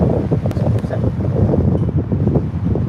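Strong wind buffets the open air at Birmingham Airport, a loud, constant rushing roar with gusty surges and no voices.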